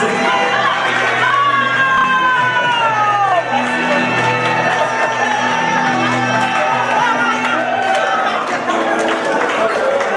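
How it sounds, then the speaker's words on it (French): Guests at an Ivorian wedding celebration clapping and cheering loudly, with a dense crowd roar, shouts and whoops and high voices rising over the applause, close and sustained throughout. "On peut applaudir"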